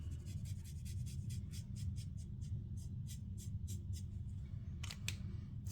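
Light strokes of markers dabbed across card stock, a series of soft, quick scratchy touches with a steady low hum beneath and a brighter scrape near the end.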